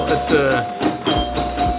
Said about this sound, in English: I love the chimes.